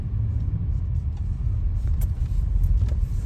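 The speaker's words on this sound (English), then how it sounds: "This is a repair vehicle." A repair vehicle rolls past on a street in Pittsburgh's Garfield neighborhood, heard from inside a car as a steady low engine rumble with faint road noise that swells slightly toward the end.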